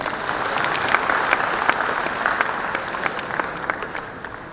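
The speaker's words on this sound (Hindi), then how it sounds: "एक बार जोरदार ताली के साथ।" Audience applause fills a hall at the Tricolour Business Conclave 2021, dense and sustained, with distinct sharp claps standing out before it tapers off near the end.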